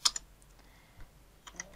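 Short burst of clicky keystrokes on a computer keyboard while an npm install command is typed, a few quick taps, a pause, then a couple more, close and fairly quiet.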